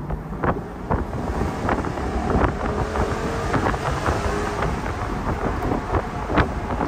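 A Jaguar XK convertible's engine rumbles steadily from inside the cabin, mixed with road and wind noise, without any clear changes in revs.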